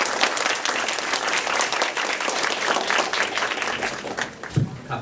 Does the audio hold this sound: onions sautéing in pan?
no